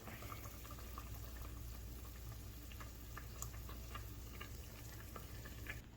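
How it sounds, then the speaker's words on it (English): A pot of potatoes bubbles softly and steadily, with faint pops and crackles scattered over a low continuous hiss, close but quiet. "Look, the potatoes are boiling."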